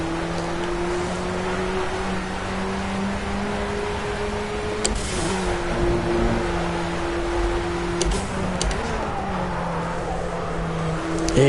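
A Formula A race car engine in the racing game Project CARS, a steady droning engine tone held at constant revs with brief shifts, heard alone without talking.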